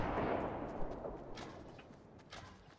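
Gunfire in a Fortnite match, a burst of blasts up front fading into scattered shots and rumbling echo over about three seconds, with no talk.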